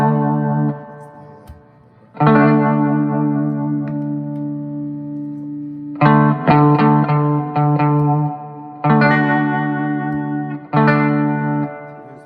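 Vintage Magnatone M10-A tube amplifier with vibrato and reverb carrying an electric guitar, played as several loud strummed chords and short phrases separated by brief pauses, with a wavering, swirling tone and a reverberant tail.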